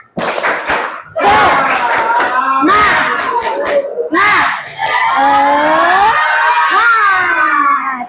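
Classroom of ninth-grade students performing the rhythmic 'tepuk semangat' clapping cheer, loud group chanting and shouting with claps throughout, voices close and energetic.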